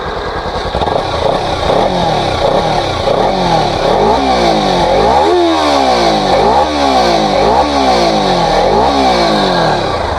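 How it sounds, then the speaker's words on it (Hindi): Loud, close rumble of a 2021 Kawasaki Ninja 300 BS6 parallel-twin motorcycle engine revved repeatedly, its pitch sweeping up and dropping back in a steady series of throttle blips, with no talking. "पैरेलल ट्विन इंजन है तो साउंड काफ़ी अच्छा आता है।"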